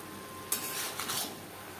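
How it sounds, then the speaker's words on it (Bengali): A utensil stirs cabbage curry with potatoes in a pan over a high to medium flame, two or three quick scraping strokes against the pan, close and fairly soft. "বাঁধাকপি বেশ ভালো করে মিক্স করে দেব চার পাঁচ মিনিট রান্না করব হাই টু মিডিয়াম ফ্লেমে"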